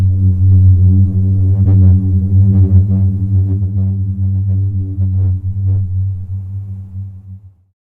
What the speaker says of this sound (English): Here is the sound of a singing desert.